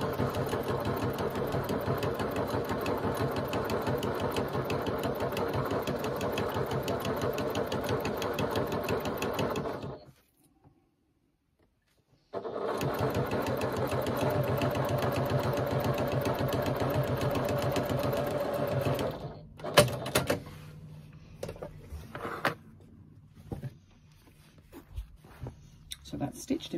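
Sewing machine stitching fabric lining, running in a steady mechanical whir for about ten seconds, pausing briefly, then resuming before giving way to fabric handling, with a person talking.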